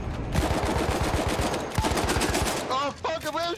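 Rapid bursts of video game gunfire crackle in a dense automatic stream as the player takes hits, followed by a short tail of warbling electronic effects.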